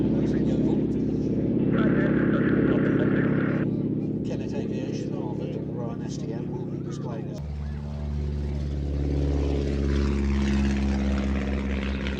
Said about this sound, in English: it's the tips of the propeller blades going supersonic, because it's a direct drive propeller